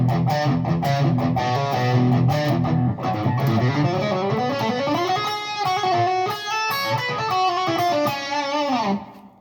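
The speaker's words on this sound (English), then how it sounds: "I've got the actual drive, the gain is only at about 11 o'clock, so it's not very high at all. It's the only pedal on except some reverb." Electric guitar on a Peavey Predator build played through a single drive pedal with the gain set low plus some reverb, giving steady, moderately overdriven chords and runs that ring on alone for several seconds before fading out.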